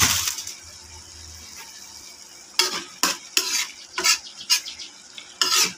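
Mung bean sprouts with shrimp are sautéed in a pan: a soft background sizzle is broken by a run of loud, sharp scrapes and clatters as a utensil stirs and tosses them, close up and without talk.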